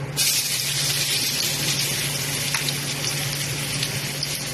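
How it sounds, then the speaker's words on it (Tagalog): Garlic sautés in a pan of oil left over from frying tofu, giving a steady, loud, close sizzle that barely changes from start to finish, with no one speaking. "Igisa na natin ang bawang."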